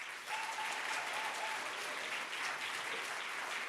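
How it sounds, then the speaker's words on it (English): An audience at the Berlinale 2026 independent juries award ceremony claps for the jury members, steady, even applause filling the room throughout. "Applause for them, please."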